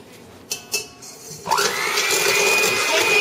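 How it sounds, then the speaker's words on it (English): Whipping cream with powdered sugar: a couple of bowl knocks, then an electric mixer whirs up to a loud, steady high-pitched whine close by. "more powdered sugar to make it whisk and beat it up so it's big and bulky"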